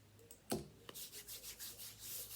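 Hands rub lotion into the skin of the arms, making soft, rhythmic swishing strokes after a brief bump at the start, close and quiet.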